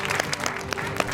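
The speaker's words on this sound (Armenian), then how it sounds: "Մի հատ ծափ արենք, ոգևորենք եւ շոու դպրոցին։" An audience claps for a show school at a children's competition event, steady applause with scattered individual claps throughout the short stretch, voices faintly mixed in.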